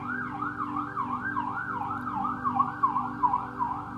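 A wailing siren rises and falls steadily and repeatedly, loud and continuous, with a low engine rumble underneath.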